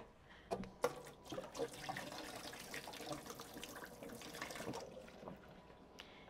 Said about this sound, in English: I'm going to add some warm water real quick